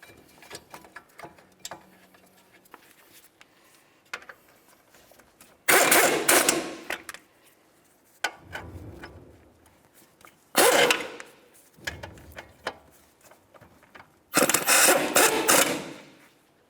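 Bolts with red thread locker being run in and bottomed out on a brake caliper of a 2007-2011 Toyota Camry, heard as three loud bursts of ratchet or impact tool whirring between quiet metallic clicks and handling sounds, with no talking.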